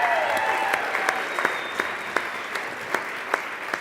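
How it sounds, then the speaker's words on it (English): A big round of applause fills a speaker-series event hall, continuous crowd clapping with a few sharper, louder claps standing out near the microphone at regular intervals, no talking. "let's give that a big round of applause"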